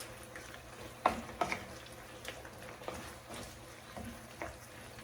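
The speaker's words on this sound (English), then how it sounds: "So all the main vegetables are in here. I'm going to give it a quick toss." Vegetables with bamboo shoots for Thai red curry fry quietly in a pan, tossed with a couple of distinct clanks and scrapes over a soft, steady sizzle.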